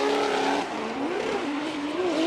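Drift cars battle through a corner at Formula D Okayama in Japan, their engines screaming on the rev limiter with wavering pitch, loud and close, tires hissing underneath.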